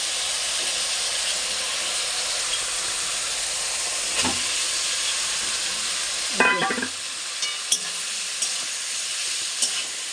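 Paneer and potato curry frying in oil in a home kitchen pan, a steady hissing sizzle with steam, then several clattering stirs and scrapes of the spoon toward the end, near and unaccompanied by speech.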